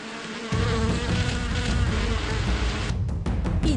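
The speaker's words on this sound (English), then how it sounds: "A huge swarm of bees chasing down the tree." A huge swarm of bees buzzes loudly and densely near a tree, a continuous close drone that starts abruptly and holds throughout with no talk.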